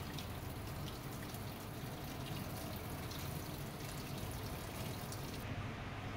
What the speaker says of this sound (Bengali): আমরা এখান থেকে পানিটা দিয়ে দিচ্ছি,